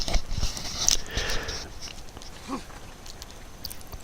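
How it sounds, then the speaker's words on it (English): Rain in the open-world game Days Gone, a steady diffuse patter with a few scattered soft thuds and rustles, moderately quiet and unbroken by talk. "And the rain effects in this game are also very gorgeous."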